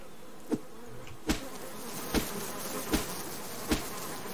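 Bees buzzing at a tree in the video game Subsistence, a low steady insect drone under repeated sharp thwacks landing at regular intervals of under a second.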